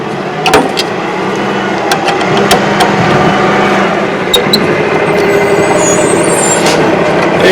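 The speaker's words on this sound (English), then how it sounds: "Hey, recycling truck." A recycling truck rolls past nearby with a heavy diesel rumble, and sharp hisses of its air brakes burst out several times over the steady engine drone.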